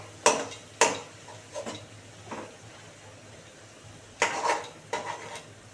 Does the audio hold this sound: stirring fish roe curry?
yes